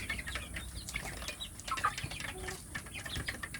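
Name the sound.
native chicken chicks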